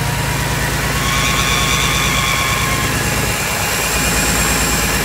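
A BMW E46 M3 engine idles steadily after a rod bearing job, a loud, even low rumble with fine rhythmic pulsing and no talk over it.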